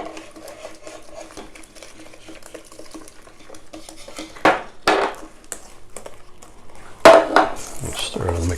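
Christmas cake mixture being stirred in a bowl as eggs, brandy and milk go in, soft scraping and clinking of the spoon with a few sharper knocks against the bowl, fairly quiet and close.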